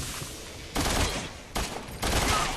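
LMG machine gun fire in the video game Resident Evil 6 comes in three rapid bursts of rattling shots, loud and close, separated by brief gaps.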